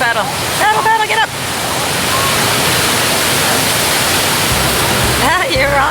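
Loud, steady rush of ocean surf and churning whitewater during a beginner's surf session, a broad roar filling the whole stretch, with brief voices near the start and end.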